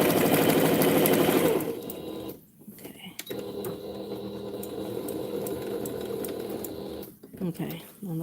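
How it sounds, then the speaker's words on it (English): A sewing machine runs fast while stitching quilt binding, then slows and halts before short backstitching bursts with mechanical clatter and pauses, as a person talks over the machine. "I am going to stop about right here, and then I'm going to backstitch."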